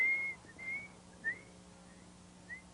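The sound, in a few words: whistle imitating a wood duck call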